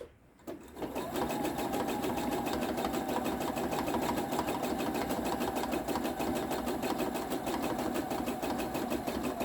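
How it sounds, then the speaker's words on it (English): An overlocker sewing machine stitches steadily through a thick quilted oven mitt, a fast even mechanical whir running close and loud for several seconds after a brief quiet start. "you can finish this off with the overlocker"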